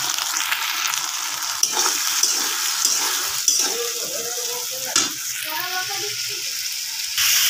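Potatoes frying in a pan with ginger, cumin, turmeric and chilli powder give a steady close sizzle with intermittent stirring scrapes, while soft voices murmur faintly in the background.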